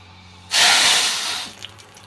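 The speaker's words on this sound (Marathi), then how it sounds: "मोहरी आणि जिरे टाकली आहे आणि लसूण छानपैकी तडतडून द्यायचं आहे." Garlic, mustard seeds and cumin hit hot oil for a tempering, bursting into a sudden loud hiss that swells for about a second, then fades into a soft, close sizzle with a faint pop.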